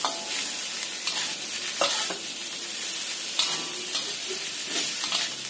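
Sliced bitter melon (pare) stir-fried with chili and garlic in a pan, a steady close sizzle with repeated scraping taps of a spatula stirring the vegetables, no voices over it.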